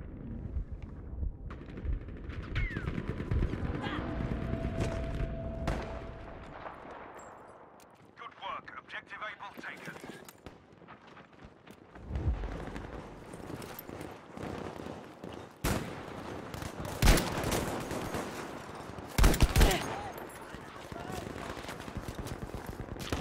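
Gunfire in the World War II shooter Battlefield V, with sharp shots and bursts scattered through busy game noise and explosions, loud and close at times.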